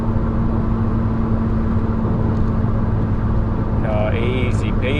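A Ford Puma's engine pulls steadily uphill on Telegraph Hill after a shift into fifth gear at high revs, a continuous loud droning hum with road roar and no break, plus a brief higher whine near the end.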